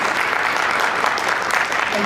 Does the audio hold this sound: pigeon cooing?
no